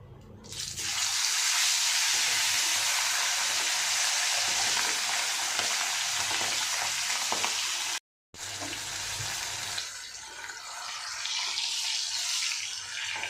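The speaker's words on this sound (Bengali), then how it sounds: "এরকম করে আমি এই মাছটাও ভেজে নিচ্ছি" A whole hilsa fish fries in hot oil with a loud, steady broadband sizzle that holds nearly throughout, broken by one brief silent gap before resuming slightly softer.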